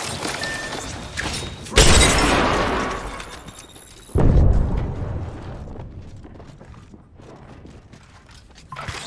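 Arc Star grenade detonating in the video game Apex Legends: two loud, crackling bursts a few seconds apart that fade slowly, set among metallic clatter and other combat noise.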